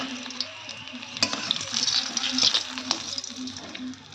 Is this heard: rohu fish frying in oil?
yes